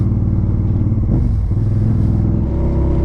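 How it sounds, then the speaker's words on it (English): A loud, throaty exhaust on an older BMW motorcycle rumbling at idle with a brief rev, close up and continuous throughout. "That exhaust is loud, but it runs really, really good on it."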